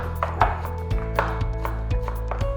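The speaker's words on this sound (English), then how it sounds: "Can you finally chop some coriander for me?" Knife chopping fresh coriander on a board in a kitchen, a steady run of close, crisp taps at an uneven rhythm, with no talking.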